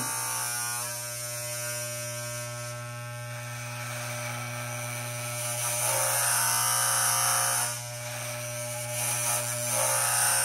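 An electric beard trimmer fitted with a number eight guard buzzes close up in a steady, loud drone that runs the whole time, with slight swells in intensity and no talking.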